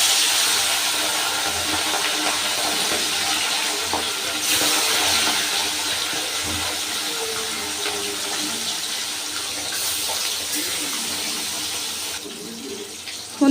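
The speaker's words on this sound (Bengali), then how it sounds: "এবার বেলে মাছগুলো আমি ভেজে নেব" Bele fish rubbed with salt and turmeric fry in white oil in a wok, producing a loud, steady, unbroken hiss of sizzling oil close by throughout, with no voices.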